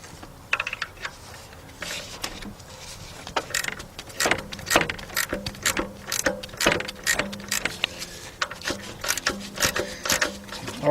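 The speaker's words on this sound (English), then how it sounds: "I'm gonna get that tightened up right there" Ratchet with a shallow socket tightening a bolt in the engine bay of a 1993 Nissan Altima: quick runs of clicking pawl strokes, close and moderately loud, repeating steadily with brief pauses between bursts.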